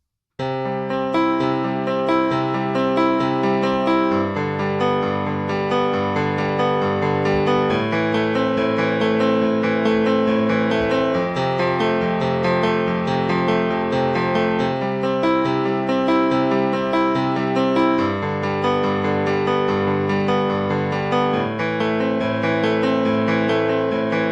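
A simple piano melody plays steadily with chords underneath, a slow, even tune with no talking.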